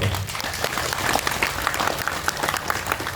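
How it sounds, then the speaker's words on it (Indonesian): An audience at an Islamic sermon claps steadily throughout, a dense patter of many hands applauding together at close range. "Tepuk tangan untuk happy"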